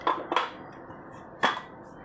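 A knife chops raw mango into pieces on a board, giving three crisp knocks: two close together, then a third after a pause, faint and with no talking.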